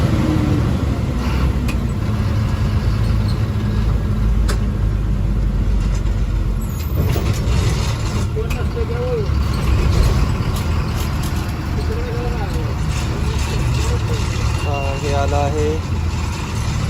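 MSRTC state transport bus driving on a long-distance highway route, a constant low engine drone and road rumble heard from inside the cabin, with occasional rattles and voices talking over it.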